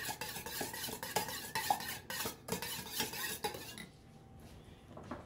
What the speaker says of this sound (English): Now we're going to mix this in. And this is our marinade.